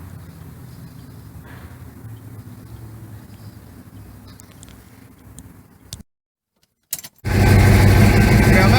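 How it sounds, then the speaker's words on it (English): Ford Mach 1 with a 351 Cleveland Cobra Jet V8, heard from the driver's seat: a low interior hum, a brief silence, then the engine bursts loudly to life for the final moments. "so y'all can hear what it sounds like to be sitting in the driver's seat of the Mach 1"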